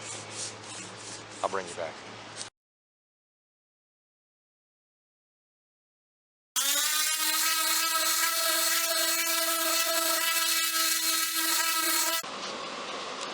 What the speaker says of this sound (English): Okay, we've got some sanding done.